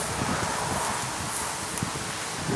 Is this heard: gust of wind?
yes